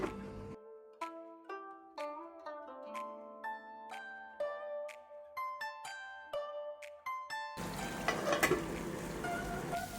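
Kerala-style chicken fries in a covered pan, a dense crackling sizzle that breaks in loudly near the end after a stretch of gentle melodic music.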